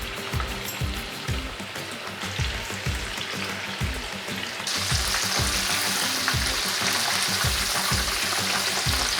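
Battered pork pieces deep frying in hot oil give a dense, steady sizzle and crackle with rhythmic stirring knocks, the bubbling growing louder and brighter partway through.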